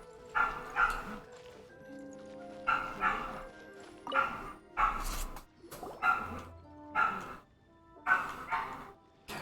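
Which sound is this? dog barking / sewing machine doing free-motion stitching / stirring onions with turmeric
dog barking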